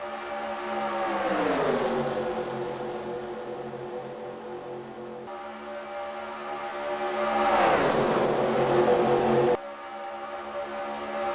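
Race cars in the NASCAR Racing 2003 video game at a 1949 Daytona 500 mock race on Daytona International Speedway, with loud engines roaring past in two sweeping pitch-bending passes, close and dominant, and no voices.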